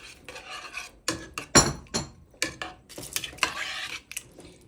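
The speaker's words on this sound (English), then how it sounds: "add inside the pot and mix very quickly" A utensil stirs ginger potato curry in a pot, close and clear: metal clinks and scrapes against the pot come in irregular bursts with short pauses, one knock standing out louder than the rest.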